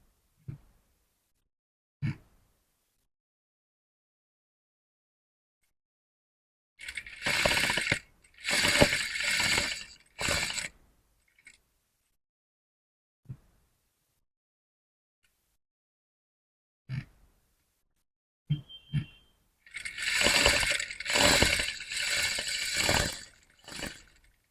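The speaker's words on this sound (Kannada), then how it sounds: "ಈ ಲೈನಿಗೆ ಒಂದು ಸ್ಟಿಚ್ ಹಾಕಿ" A sewing machine stitching a collar runs in short bursts of fast, rattling stitching separated by silences, with scattered isolated clicks and knocks from handling, close and fairly loud.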